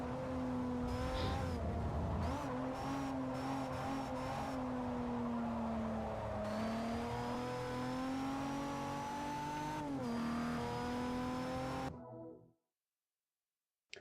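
Rotary-engined race car in Forza Motorsport 4, a high, buzzy engine wail rising and shifting through gears with brief tire squeal, loud and continuous before cutting abruptly to silence.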